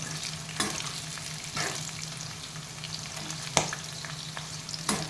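Sesame seeds roasting slowly in a pan over a low flame give a steady faint sizzle with a few sharp pops and crackles scattered through it, close by, with no voices.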